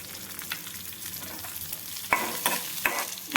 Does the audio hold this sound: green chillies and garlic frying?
yes